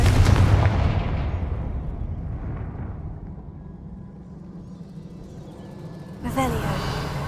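The Confringo fire spell in Hogwarts Legacy goes off as a loud burst at the start, then trails into a fading rumble. A second sharp blast hits near the end.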